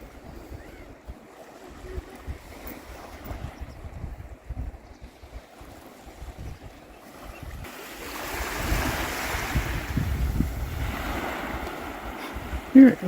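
Waves breaking on the Baltic Sea coast near Visby, with a few whitecaps. A steady wash of surf and wind rises and grows louder and fuller halfway through.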